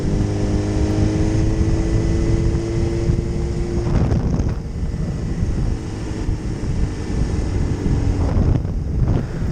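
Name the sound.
motorcycle ride with wind noise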